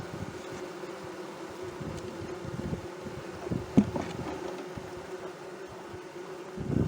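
Honeybees buzz around an open hive during a spring nectar flow, a dense continuous drone with individual bees passing close now and then and a brief louder bump partway through.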